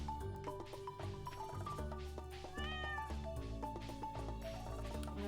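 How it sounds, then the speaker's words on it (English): A cat meows and cries in a farming video game over steady game music, with a rising wail in the middle and no voices. "That cat in my game just cried."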